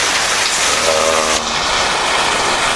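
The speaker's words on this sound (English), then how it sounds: "Windy and rainy." Rain and wind during Hurricane Milton, a steady broadband hiss of rainfall that fills the whole clip at close range, with a brief tonal whine partway through and a short spoken word.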